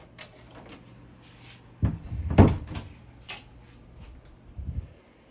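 A door creaks and knocks open with a few wooden thumps and rattles, close by in a quiet room.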